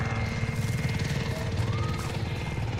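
Helicopter in the video game Call of Duty: Modern Warfare, a constant loud rotor thrum with rhythmic low pulsing throughout, other game noise faintly underneath.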